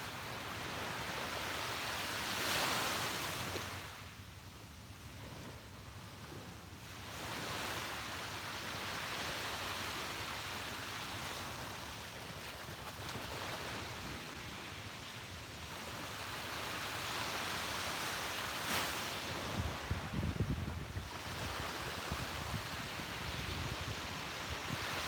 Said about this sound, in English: soak in the sound of the waves